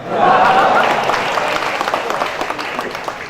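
An audience at a mushaira in Mumbai breaks into loud, close applause, a dense wash of clapping that swells at once and slowly thins out.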